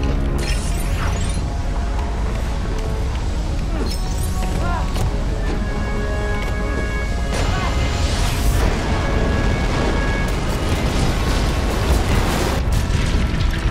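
Rockets exploding in The LEGO Movie Videogame, dense booms and bursts over game music and effects, with characters talking throughout.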